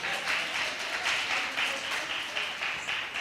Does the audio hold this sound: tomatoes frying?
no